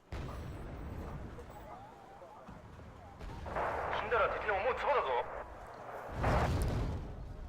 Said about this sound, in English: And then artillery shell directly on top of my Chumat.